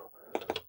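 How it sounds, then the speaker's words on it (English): A few quick keystrokes tap on a vintage NEC computer keyboard, three or four distinct presses close together after a brief quiet moment. "So I'm going to type in,"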